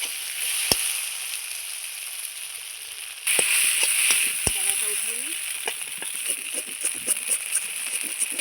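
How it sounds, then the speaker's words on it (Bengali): American fish oil fries in a pan with onion, a steady soft sizzle with occasional sharp clicks and stirring taps, close but fairly quiet. "আমার আমেরিকান মাছের তেল খুব সুন্দর ভাজা হয়ে গেছে"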